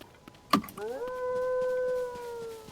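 After a sharp knock, a single puppy lets out a long, rising then steady howl lasting over a second, fairly close and clear against quiet background noise.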